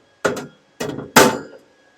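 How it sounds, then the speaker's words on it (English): A metal grill grate and grease tray for a Traeger Trailhead wood pellet grill are set in place with three sharp, close metallic clanks and rattles, the last the loudest, with no talking. "We'll put our grill grate back on."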